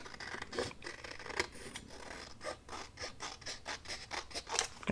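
Scissors trimming a paper construction strip, close and quiet, a series of short snipping and rasping cuts repeating at an uneven pace with no voices.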